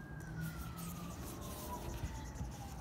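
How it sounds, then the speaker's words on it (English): A distant emergency vehicle siren near a hospital, a faint wailing tone gliding slowly downward over low city traffic rumble, alone and brief. "I'm about a block away, so I get a lot of sirens here."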